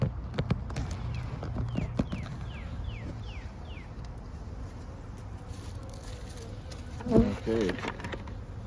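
Around an open beehive, bees swarm in a close, continuous buzzing drone, with a few scattered clicks and a short thud near the end, and no talk.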